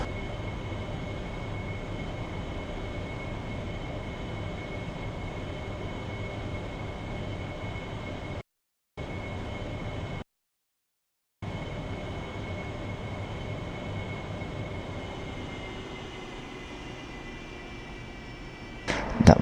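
Harrier jet in a flight simulator game touching down, a steady loud engine roar running throughout with two abrupt brief dropouts to silence, ending in a short louder burst.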